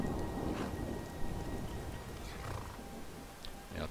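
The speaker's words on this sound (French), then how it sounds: "Merde, il pleut." Steady rain and rolling thunder in Skyrim, a dense continuous wash of falling rain with soft low rumbles throughout and no voices.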